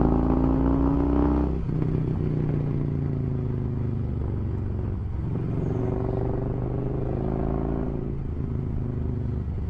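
An old Harley motorcycle with worn rear suspension rumbles steadily along a rough country road, a low engine drone with shifting pitch and some rattling over bumps.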